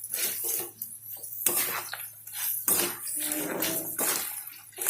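Raw mango pulihora rice being stirred and mixed in a pan, a few close scraping and clinking strokes of a utensil against the pan in quick bursts.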